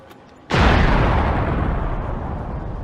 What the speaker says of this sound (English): Suddenly, there was a loud explosion.